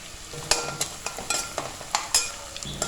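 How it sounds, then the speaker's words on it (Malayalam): Ginger, garlic, green chili and curry leaves sautéing in oil for a Kerala beef pickle, with a light sizzle under repeated sharp spoon scrapes against the pan, heard up close with no talking. "ഇനി നമ്മുടെ ഇഞ്ചിയും വെളുത്തുള്ളിയും പച്ചമുളകും കറിവേപ്പിലയും എല്ലാം കൂടെ നന്നായിട്ടൊന്ന് മൂത്ത് വരണം."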